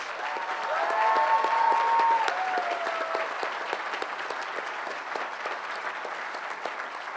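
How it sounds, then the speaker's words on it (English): An audience applauds at a graduation ceremony, a steady, moderately distant wash of clapping that holds for several seconds, with a brief high tone or whistle near the start. "So please, a big round of applause."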